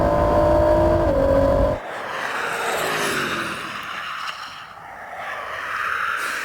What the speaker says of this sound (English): He's putting his foot down on it. He is pushing it. Look at that GT.